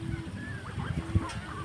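Young native Bengali ducks kept on a small home plot give faint, scattered peeps and soft honks at a modest distance, with light background noise and no speech.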